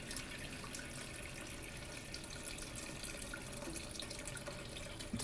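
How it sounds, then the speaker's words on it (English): Boiled chicken stock poured through a paper towel strainer for chicken noodle soup, a steady, continuous liquid stream splashing and trickling at close range without pause. "You take the stock that's been boiling and cooking and simmering, and you pour it."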